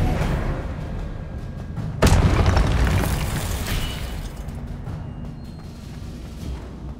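Spell explosions from the Hogwarts Legacy video game, a loud booming blast with a sharp onset, followed by a rumbling burst and crackling debris that slowly fade under a continuous bed of game noise.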